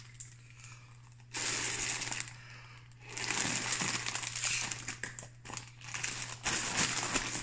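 Breaths blown into an inflatable camp pillow: two long, breathy rushes of air, the second broken into puffs, close and fairly loud over a steady low hum.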